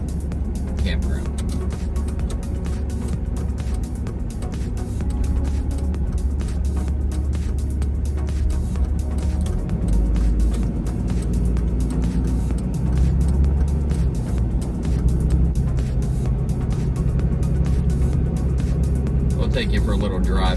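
Car cruising slowly around a campground loop at the Oaks at Point South in Yemassee, South Carolina, a steady low engine and road rumble throughout, close and continuous, with a person talking over it.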